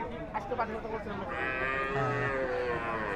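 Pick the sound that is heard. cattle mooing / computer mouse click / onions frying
cattle mooing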